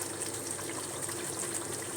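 Steady broadband rush of water pouring into a cooking pot of chicken biryani masala, continuous and fairly close, with no voices over it.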